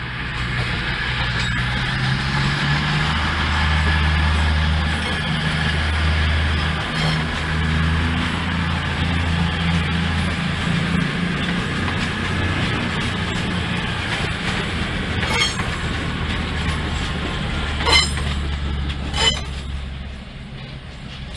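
Train 220024, a Newcastle to Southampton Central service, rumbles steadily through Basingstoke station, giving a loud, continuous low drone with faint metallic squeals and clanks along the way.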